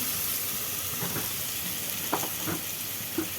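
Tomatoes frying in a pan for tomato rice make a steady, close sizzle, with soft stirring scrapes and a few light clatters coming through now and then.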